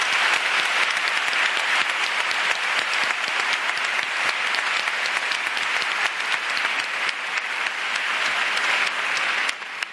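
A large audience at the Princess of Girona awards ceremony applauds in a dense, even roar of clapping that holds steady for about ten seconds with no voices.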